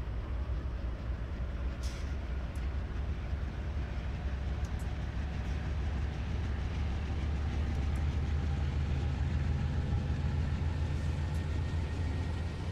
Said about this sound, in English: this is not my train, this is his train